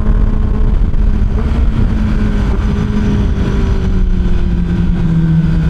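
A 1,000cc Kawasaki ZX10R sport bike engine revs loudly and close during a downshift. Its droning note climbs and dips as the gears change, with no talking over it.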